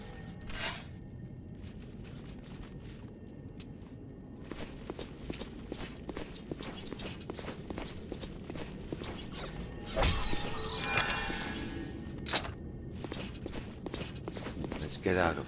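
In a fantasy video game, horse hooves clip-clop in a steady rhythm of rapid close taps, with a brief whooshing burst midway and a few short pauses.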